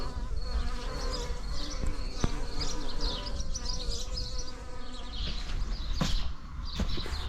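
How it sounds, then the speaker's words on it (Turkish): Bees buzz continuously close by around a cup of tea in a garden after rain, a steady droning hum with occasional louder passes as insects fly near. "çayımıza bakın arılar sarmış durumda."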